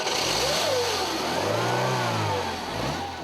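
A Renault R16 engine revs up and falls back in one long, raspy yet melodic swell, loud and close, with a steady engine drone around it and no voices.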